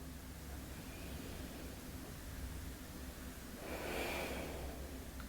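Slow, deep breathing during a relaxing yin yoga session, faint and soft over a hiss of room noise, with one fuller, louder exhale near the end.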